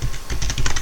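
Keys on a computer keyboard are typed in a quick close burst while entering a grep command in a Linux terminal, about a dozen crisp clicks in under a second.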